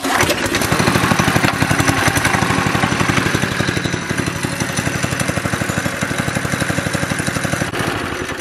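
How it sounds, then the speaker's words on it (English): A small engine on a cheap marketplace machine fires on the first cold pull start and settles into a loud, steady, rapidly pulsing idle, close by and running alone without talk. "That was a cold pull start. I didn't actually expect it to crank first pull"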